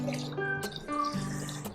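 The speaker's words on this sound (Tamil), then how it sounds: "இப்போ தண்ணி நல்ல தண்ணி எடுத்து அதில் ஊற்றி ஊற வைக்க போகிறேன் அரிசியை" Clean water pours into a bowl of washed rice and urad dal set to soak for idli batter, a steady splashing and trickling with ringing tones throughout and no talk.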